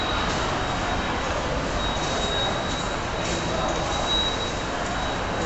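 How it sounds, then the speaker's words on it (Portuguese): Dense, steady crowd noise with rumbling trains and a faint high whine, the constant bustle of a crowded metro platform in Salvador, Bahia, at 5 p.m. rush hour. "Estação do metrô, tá valendo aí. Movimento 5 horas da tarde."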